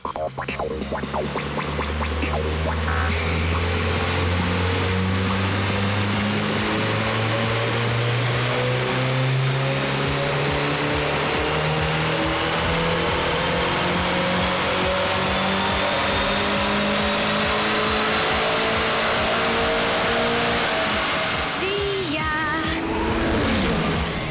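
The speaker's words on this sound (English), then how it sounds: "They're going to strap it to this four-wheel drive dynamometer." Turbocharged car strapped to a four-wheel-drive dynamometer, its engine revving hard and sustained throughout, with rising and falling pitch sweeps and a loud, continuous roar with no talking.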